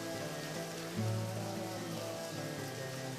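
Rain falls steadily in the video game Deadly Premonition, a continuous even hiss of drops layered over a low, sustained tonal background with no break or change in intensity.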